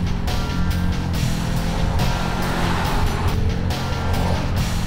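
An Audi Q3 2.0 TDI with a manual gearbox drives along, a steady, fairly loud mix of engine drone and road noise with no talk.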